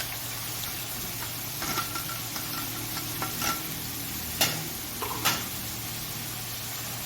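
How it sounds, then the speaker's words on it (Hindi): About 1.5 kg of sliced onions frying in a commercial-size pan for bhindi masala, a soft continuous sizzle with occasional scraping stirs and clinks of a spoon against the metal. "इस प्याज को आपने गोल्डन नहीं करना, बस प्याज को आप भूनेंगे 5 से 7 मिनट के लिए"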